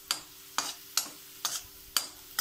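Raisins frying in a pan over medium flame, marked by five sharp, regular stirring scrapes about half a second apart over a faint background sizzle.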